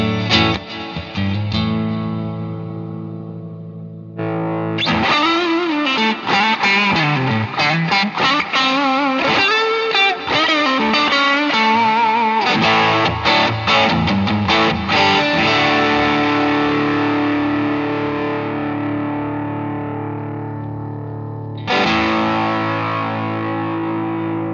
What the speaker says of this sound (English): So hall reverb is very typically emulating a hall